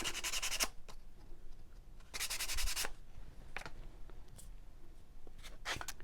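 Light hand sanding over a painted wooden shiplap platter, a few distinct scratchy rubbing strokes, the longer ones near the start and middle, with brief softer swipes between, close and fairly quiet.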